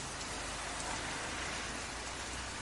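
Steady rain falls without a break, a dense hiss of drops on a surface that stays even and close throughout, with no thunder or voices over it.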